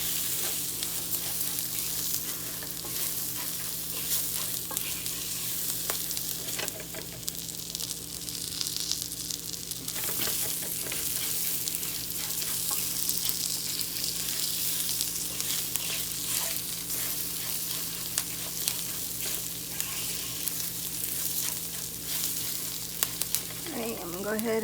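Rice browns and fries in a pan for Mexican red rice, a steady, bright sizzle running throughout with occasional stirring scrapes and a brief voice near the end.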